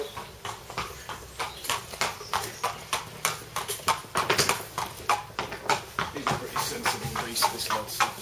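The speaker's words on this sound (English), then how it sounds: "so David, you're taking the horse out now for your first lot of the morn" Hooves of a horse clip-clop in a steady, close walking rhythm as it is led out for its first morning lot at a racing yard, the regular beats continuing without speech throughout.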